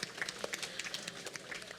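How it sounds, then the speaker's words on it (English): Audience applause for primary school quiz participants at a semi-final event, a steady patter of scattered clapping throughout, moderately distant and fairly faint, with no talking. "Give yourselves a round of applause."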